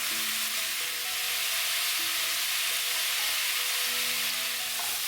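Beef pieces searing in a pan with sugar give a steady, close, even sizzle and frying hiss that holds the whole time, with no talk over it.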